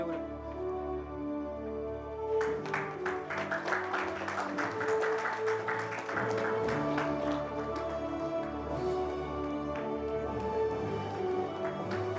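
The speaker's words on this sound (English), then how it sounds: "Applause to a wonderful panel." Audience at a cloud technology panel event applauds the women leaders on stage, clapping swelling in after a few seconds over a humming room and continuing moderately to the end.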